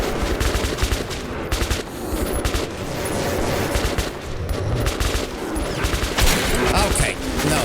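Rapid, sustained gunfire in the Metro video game, loud overlapping bursts of automatic shots with sharp cracks throughout, a voice talking faintly beneath the shooting.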